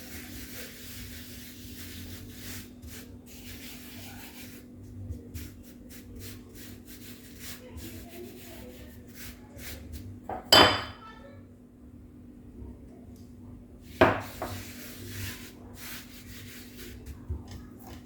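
Cinnamon roll dough being mixed in a bowl, soft scraping and stirring with two sharp clinks of utensil against the bowl, close and fairly quiet, no voices.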